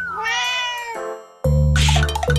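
A cartoonish cat meows twice in an escape game, a long drawn-out mew followed by a louder, busier second call with a low rumbling backing.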